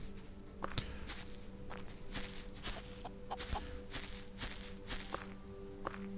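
A chicken clucks in the video game Solarpunk, with soft repeated clucks over steady footsteps and a low background ambience, moderately loud and with no talk.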